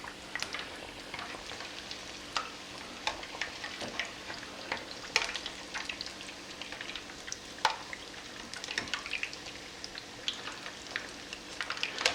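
A chimichanga, a burrito in a thin tortilla, fries in hot oil with a steady close sizzle broken by frequent sharp pops and crackles, with no talking.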